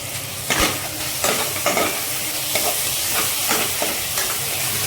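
Curry leaves sizzle loudly in hot oil while being stirred for an Andhra-style bottle gourd and sweet potato pulusu, a close, constant crackling hiss broken by repeated scraping stirs, with no voices.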